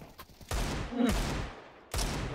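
Bursts of rapid gunfire ring out in a Counter-Strike match, two loud stretches of shooting separated by a brief pause, close and sharp.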